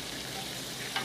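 Beef dendeng is stir-fried with fried onions and bird's eye chili in a hot pan, giving a dense, continuous close sizzle with a brief scrape of stirring near the end and no talking.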